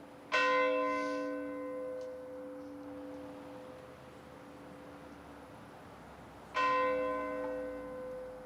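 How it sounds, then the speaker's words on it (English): Tolled in remembrance of Titanic victims, a church bell sounds two clear, resonant strikes about six seconds apart, each ringing on and slowly decaying in a quiet outdoor setting. "I invite Tommy Canavan to ring the bell for Pat Canavan."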